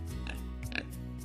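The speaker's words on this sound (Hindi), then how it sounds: "पिग्स मतलब सुअर" A pig gives a couple of short, nasal grunting oinks in quick succession over a steady low background hum.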